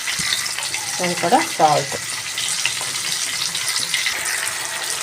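Tomatoes frying in oil in a pan for mint chutney, a soft steady sizzle running throughout at moderate level, with a brief spoken remark partway through.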